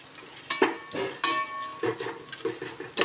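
A spoon scrapes and knocks in a pan as vegetable biryani with tomatoes is stirred, giving irregular clinks and scrapes over a faint sizzle, close and fairly quiet.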